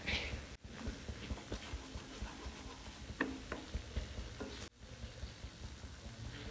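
Ginger garlic paste frying in a pan makes a faint, steady sizzle with light ticking and crackling, broken by a couple of brief sharp clicks.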